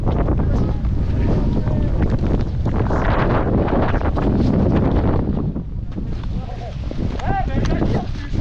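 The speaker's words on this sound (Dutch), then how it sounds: "Yeah, it's just the wind." Strong wind roars in a snowstorm on Mont Vallon in Méribel, Les 3 Vallées, a loud continuous gusting buffet against the microphone, with voices faintly talking under it.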